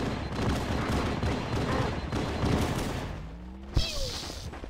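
Grenade explosions in the Halo video game, a run of dull booms and bursts in quick succession followed by a single sharper blast near the end.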